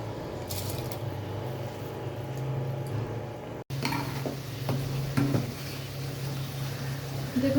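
Rice goes into a pot of spiced chicken biryani with cinnamon, cardamom, cloves, salt and vinegar, giving soft squishing, stirring and sizzling textures, with a short break midway and a few small clinks.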